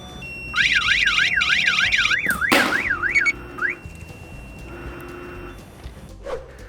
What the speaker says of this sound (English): The alarm should ring.